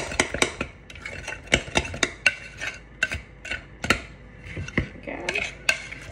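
A utensil stirs blueberry cake batter in a single mixing bowl, with repeated quick knocks and scrapes against the bowl in an uneven rhythm, close and fairly loud with no talk.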